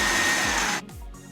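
A kitchen blender whirs loudly as it chops chard a second time, running steadily before cutting out and restarting briefly.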